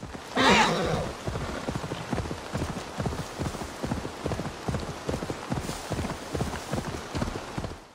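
Horse hooves clip-clop in a steady rhythm in the video game Assassin's Creed Valhalla, a brief snort or whinny at the start, then regular moderately loud footfalls continuing alone.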